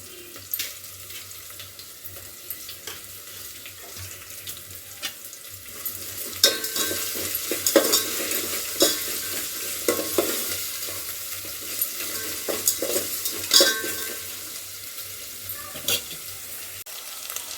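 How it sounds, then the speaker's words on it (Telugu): Tempering spices and peanuts crackle and pop in hot oil for upma, with soft sizzling under a run of sharp, irregular spatters that gets busier partway through. "చూడండి, పోపు అయితే మంచిగా గోలుతుందండి."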